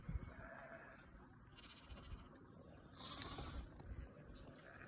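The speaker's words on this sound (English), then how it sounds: "Can't believe the sheep are in their field" Sheep bleat in a field at the foot of Ben Nevis in Scotland, faint and distant, with several calls spread across a quiet, breezy outdoor background.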